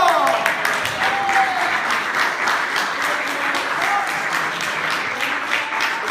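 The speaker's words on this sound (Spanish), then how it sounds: "Y yo diría, ¡aplausos!" Church congregation applauding during a Spanish-language worship service, a steady dense wash of many hands clapping with faint voices and cheers mixed in throughout.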